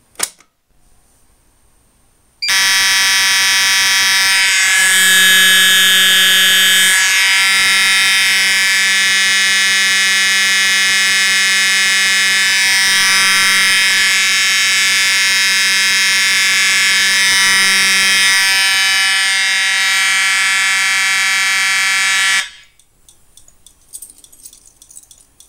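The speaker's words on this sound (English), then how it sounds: "now we're going to go ahead and re-alarm with the Gamewell MS-7" Fire alarm horns on a Potter PFC 4064 panel system, re-alarmed with a Gamewell MS-7 pull station, blare a loud, continuous harsh tone for about twenty seconds after a short quiet start, then cut off abruptly.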